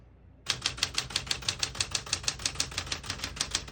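Rapid, evenly spaced key strikes clatter on a 1975 Smith-Corona Galaxie Twelve typewriter, about five per second, crisp and close with no voices over them.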